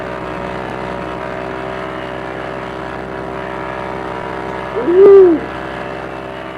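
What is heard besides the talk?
P-40E Warhawk engine and propeller at takeoff, VR video game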